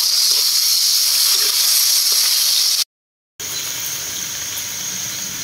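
Squid, sugar, MSG, salt and seasoning granules sizzle in a hot pan with a loud, steady frying hiss that cuts out for a moment of silence and then resumes slightly quieter, with no one talking.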